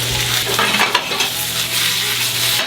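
Browned potatoes, garlic and porcini sauté in a hot pan with a dense, steady sizzle, broken by a few quick stirring scrapes near the start.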